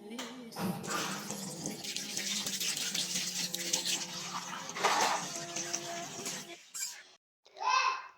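Water runs from a tap into a sink for hands and face washing, a steady splashing close by that stops near the end, and a voice is heard briefly.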